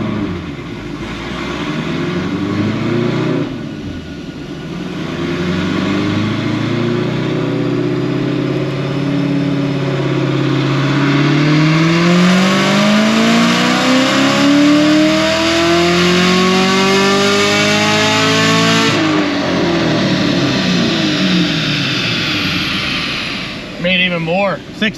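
A Chevrolet Camaro ZL1 with bolt-on upgrades screams through a full-throttle dyno pull, its engine note climbing steadily in pitch before cutting off sharply near the end, loud and sustained throughout.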